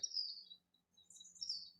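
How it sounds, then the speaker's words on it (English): A yellow warbler sings in marshland, giving two short bursts of high, bright chirping notes with a quiet pause between them, faint and distant, with no voices. "this is a yellow warbler"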